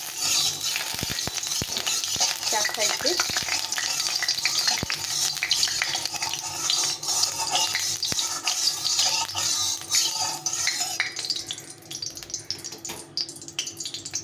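Oil heats in a wok before small river fish go in, giving a dense continuous sizzle close up, with scattered spatter crackles and scraping. A voice speaks briefly.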